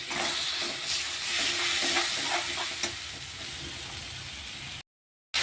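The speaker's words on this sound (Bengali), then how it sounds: "ভালো করে মশলাটা কষিয়ে নিচ্ছি" Ground ginger and cumin paste with chilli and turmeric frying in a pan, a close hissing sizzle with busy stirring scrapes that ends in a brief silence.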